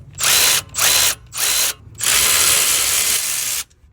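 Ratchet wrench loosening brake caliper bolts on a Ram 1500 5th Gen, close and loud, with three quick bursts of rapid clicking and then one longer continuous run before it stops.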